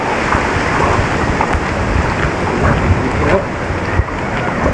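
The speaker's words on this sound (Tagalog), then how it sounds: "Kalakas talaga ng bagyong si Pino." Strong Typhoon Tino winds roaring steadily and loudly around a rural area of banana and papaya plants, a dense buffeting rush with gusts hitting the microphone.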